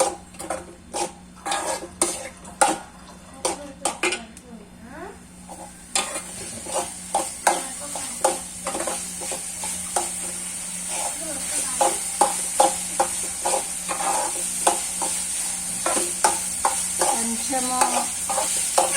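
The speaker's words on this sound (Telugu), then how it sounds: "పీసెస్ కూడా కొంచెం వేయించుకుంటే కర్రీ అయితే బాగుంటుందండి" Already-boiled pieces fry for a curry in a pan, with a steady sizzle under rhythmic spatula scrapes and clinks against the metal. Brief speech breaks in now and then.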